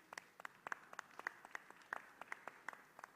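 A few audience members at an agricultural symposium clap sparsely and faintly, distinct individual claps in an uneven rhythm rather than a full ovation.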